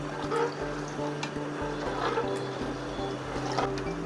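Water is poured into a pot of Nellore fish curry, a steady close trickle and splash with faint background clatter.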